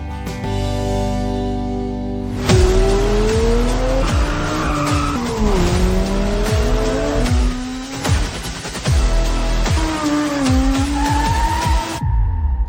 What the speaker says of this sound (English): Supercar street racing.